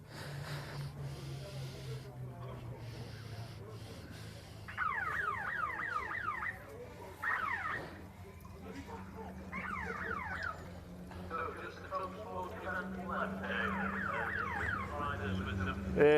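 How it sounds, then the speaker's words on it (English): A pit lane siren at a Fiesta Junior Championship race sounds in repeated rising sweeps as race cars pull in, fairly faint and distant over engine rumble and outdoor ambience. "siren's about to go as they pull in"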